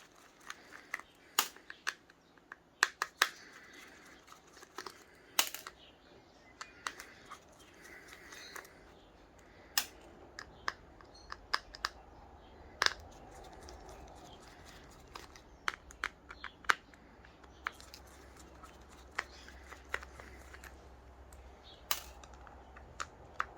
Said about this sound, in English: We'll quickly remove all of these screws here and see what it's got on the other side.